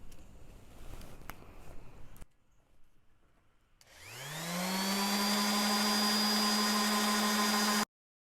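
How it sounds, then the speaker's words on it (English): A power sander working on furniture starts after a short quiet pause, spinning up quickly into a loud, steady whine that runs continuously before cutting off abruptly. "So let's get sanding."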